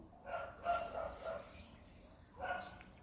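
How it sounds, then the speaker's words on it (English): Dogs bark outside in two bursts, a run of several barks and then another pair after a pause, heard at a moderate distance and fairly faint. "I just feel like going outside and telling those dogs to keep quiet."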